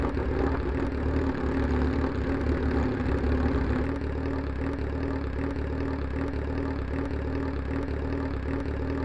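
A BMW S1000RR sport motorcycle idling at a petrol station, its engine settling with a steady low hum and faint periodic ticks, revs easing slightly midway; no talking.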